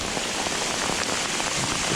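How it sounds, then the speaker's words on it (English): Hail pelts down steadily on an outdoor fishing spot on the Delta in California during a stormy cold snap, a dense, continuous hiss of small impacts close by with no talking. "Oh, we're getting hail."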